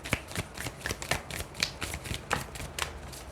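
Tarot cards are shuffled by hand in a steady run of quick, crisp riffling bursts, close and continuous with no talk over them.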